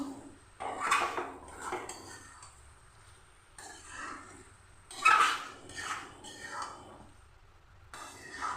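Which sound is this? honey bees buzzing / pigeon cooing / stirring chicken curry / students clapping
stirring chicken curry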